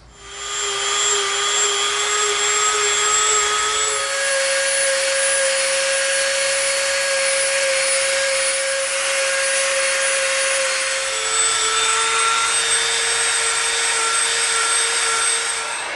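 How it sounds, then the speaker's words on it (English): A Dremel rotary tool fitted with a soft bit whines at a steady high pitch while rounding the edges of EVA foam, its tone dipping and shifting slightly as pressure on the foam changes, running continuously and close. "We're gonna bust out our old friend, the Dremel, with the soft bit, and we're going to round off all the edges."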